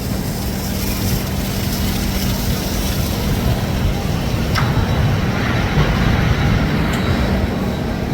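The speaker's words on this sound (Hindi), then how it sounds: "देखो भाई वो आ गई Seemanchal express, Seemanchal express crossing with Seemanchal express" The Seemanchal Express rushes past another train at a crossing near Kanpur, heard from on board as a loud, continuous roar and rumble of rolling stock with a faint brief squeal.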